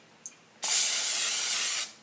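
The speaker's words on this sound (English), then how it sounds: "cooking spray." Cooking spray hisses from a can onto cauliflower pieces in an air fryer basket in one steady burst of about a second, loud and close, after a tiny click.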